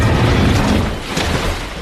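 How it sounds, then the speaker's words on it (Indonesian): Dense, continuous rumbling booms with a crackling wash of debris noise, a sustained barrage of cartoonish explosions with no clear gaps between blasts, from cannonballs bombarding an island in an animation. "Pasukan Blefuscian yang mengetahui sistem pertahanan telah mati langsung membombardir negeri Lilliput dengan bola meriam."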